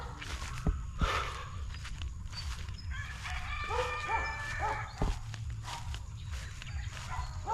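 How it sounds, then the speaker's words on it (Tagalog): Several dogs barking on a rural path, scattered barks near and far with roosters or fowl calling and footsteps in the background, fairly faint overall. "Ang daming aso dito."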